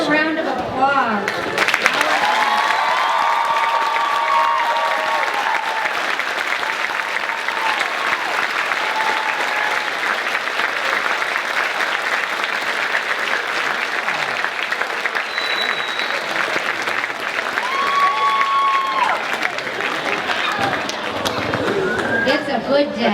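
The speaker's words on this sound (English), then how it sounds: "And we have another round of applause." Sustained, loud crowd applause fills a nursing pinning ceremony at Cedar Crest, steady dense clapping with cheers and voices mixed in throughout.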